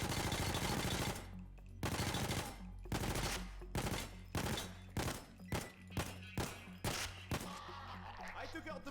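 Automatic gunfire in PAYDAY 2: long sustained loud bursts at first, then a run of separate heavy shots and short bursts in an uneven rhythm, close and dominant.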